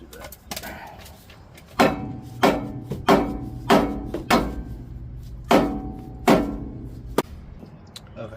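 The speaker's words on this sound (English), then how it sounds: "we're just gonna take a hammer, this dead blow, just wail on it until it comes off" A dead blow hammer pounds a seized part off a 2004 Ford Explorer in sharp, separate strikes, about eight loud blows at uneven intervals, with a faint voice beforehand.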